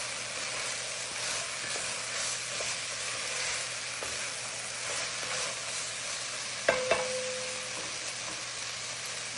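Ground meat and tomato are stirred in a hot pan, with a steady sizzle and a scraping spoon. A sharp clack sounds partway through.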